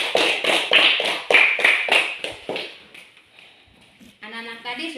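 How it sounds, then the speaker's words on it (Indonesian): A small group of schoolchildren claps in a classroom for a classmate after her story, about a dozen quick, fairly loud claps in an uneven rhythm that fade out, followed by a voice speaking. "tepuk tangan untuk Nindi"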